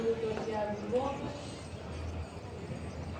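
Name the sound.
horses walking, hooves clip-clopping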